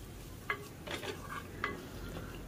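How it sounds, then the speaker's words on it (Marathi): Spring onion sautéed in a pan for a mixed vegetable bhaji, with a spoon scraping and stirring in a few distinct strokes over a soft steady sizzle. "कांद्याला पण आपण थोडं परतून घेऊया"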